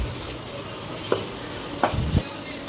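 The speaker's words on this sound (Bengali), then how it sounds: "এরকমভাবে খুন্তি দিয়ে দিয়ে ভেঙে কচু শাকের সাথে মিক্স করে নেবেন" Spatula scraping and stirring taro leaves (kochu shak) in a pan, a few distinct scrapes over a low background of faint cooking noise, close and moderately quiet with no voices.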